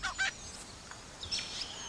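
A male lyrebird singing a medley of mimicked bird calls, with short bright whistles and chirps in bursts at the start and again near the end, moderately close, over a quiet background.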